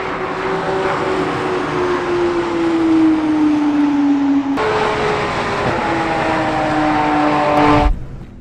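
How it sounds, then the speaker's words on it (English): Loud Porsche race car engines roar past at high speed on a track at a car festival, pitch dropping with Doppler shift as one passes, then another screams by before cutting off. "see these Porsches just tearing up this track"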